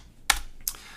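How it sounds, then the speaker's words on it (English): Two short bursts of computer keyboard typing during data entry in construction estimating software, close and crisp, with a quiet gap between the clusters of keystrokes. "just typing and entering as you guys update your details"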